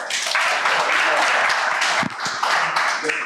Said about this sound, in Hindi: सर काजी के लिए तालियां हो जाएगा।